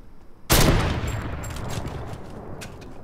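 Fortnite Mobile gunfire: a sudden loud burst of shots, then scattered quieter shots trailing off as the noise fades.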